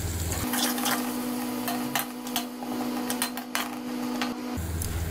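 Chopped onion and ginger-garlic paste fry in a pan for a crispy taro root (arbi) stir-fry, a steady close sizzle and crackle with a constant low hum beneath and no talking.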